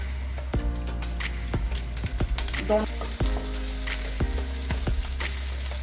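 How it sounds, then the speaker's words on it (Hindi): Finely chopped green chili and grated ginger sizzle in hot oil over a raised gas flame, a steady crackling fry with scattered clicks and stirring scrapes, close and continuous. "दोनों को अच्छे से हम इस तरह से तेल में फ्राई कर लेंगे।"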